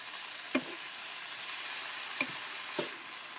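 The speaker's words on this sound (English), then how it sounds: "Just mix it around," Thai larb moo pork pan-fries with a soft, even sizzle, broken by three sharp scrapes or taps of a utensil being moved through the pan.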